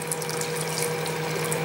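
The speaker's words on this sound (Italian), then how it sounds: "Versiamo l'acqua quasi all'orlo." Water pours steadily from a tap into a pot being filled almost to the brim for Cantonese-style rice, a continuous close rushing stream with no talk.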